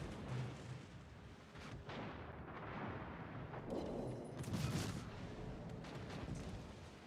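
Secondary guns firing in a naval video game, heard as muffled, distant booms and rumbling bursts over a steady game ambience, with a few stronger blasts clustered near the middle.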